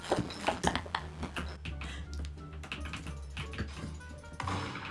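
Close, quiet clicking of a computer keyboard being typed on in bursts of rapid keystrokes, with soft background noise and brief pauses between runs of taps.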